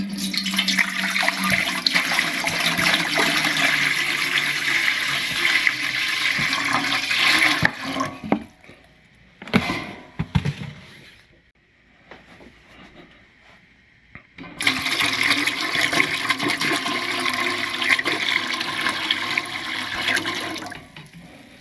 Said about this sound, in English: I'm going to fill up to about here, under here, with water and vinegar combination